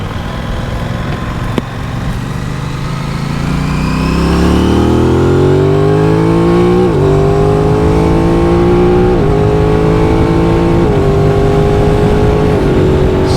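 An Aprilia RS660 sport motorcycle engine revs up loudly and climbs through the gears, with quick, crisp quick-shifter shifts breaking the rising whine several times.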